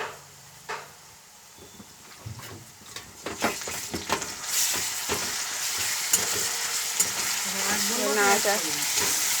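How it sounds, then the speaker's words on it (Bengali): Garlic paste drops into a pan of fried onions and bursts into loud sizzling, with spatula scrapes and stirring knocks before the frying settles into a steady hiss. "এবার রসুন বাটাটা দিয়ে দেবো"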